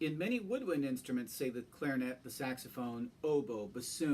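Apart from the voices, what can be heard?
None of the usual background noises is heard.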